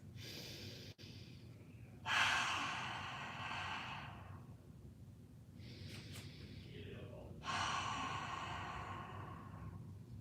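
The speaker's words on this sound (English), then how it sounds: "Take 3 big inhales and exhales." Slow, deep breathing during a child's pose stretch: two long, audible inhale-exhale cycles with breathy rushes of air, close and soft, separated by quieter pauses.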